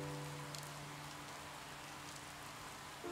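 Steady rain begins in the VR game CyubeVR, a soft, even hiss of falling drops at low volume, with a faint tonal hum underneath and a few light clicks.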